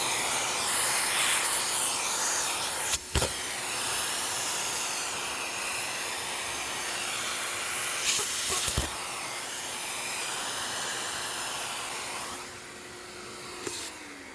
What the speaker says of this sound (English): turn on your vac, hold your leaves tight, and run them up and down